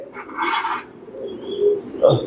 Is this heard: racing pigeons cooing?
yes